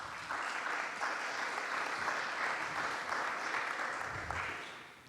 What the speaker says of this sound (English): please do hold your applause from this point on